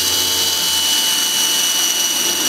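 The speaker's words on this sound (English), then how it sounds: "first we're gonna drill that hole only through the corrugate" A power drill boring a hole through corrugated roofing while building a chicken tractor, a loud, continuous high-pitched whine close by with no talk over it.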